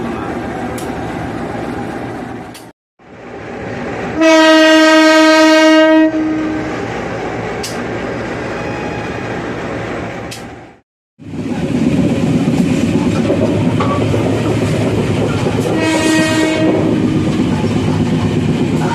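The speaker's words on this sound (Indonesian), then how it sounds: "KA 402 komuter lain Doho bersilang dengan KA 425." Two Indonesian trains crossing, the KA 402 commuter passing the KA 425: a loud, steady rumble of rolling cars, broken by short gaps, with two long, blaring train horn blasts, one early and one near the end.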